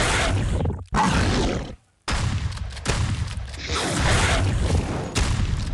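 A rocket exploding in a hard mobile shooter game: loud, dense booming blasts that come back to back, broken by a short near-silent gap before the heavy rumble resumes.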